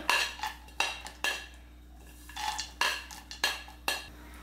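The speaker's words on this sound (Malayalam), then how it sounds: "ഇതിലേക്ക് നമ്മൾ ഫ്രൈ ചെയ്ത ഐറ്റംസ് എല്ലാം ഇട്ട് കൊടുക്കാം" Fried peanuts and coconut pieces are tipped into a large kadai for soya chunks rice, producing a run of sharp metallic clinks and scrapes of a spoon against the pan, repeated in short bursts at close range with no talking.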